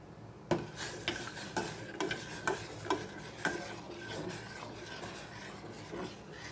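Spoon scraping and tapping in a pan while a thick milk and cornflour mixture for homemade vanilla ice cream is stirred over low heat, giving a steady run of close, rhythmic knocks and scrapes.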